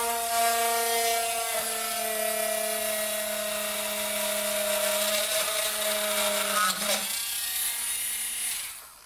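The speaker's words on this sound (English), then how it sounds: "Now all I did is I drilled a nice little hole in the plastic." A Dremel rotary tool whines steadily at high speed while drilling a small hole in a plastic case, its pitch dipping briefly under load before spinning down near the end.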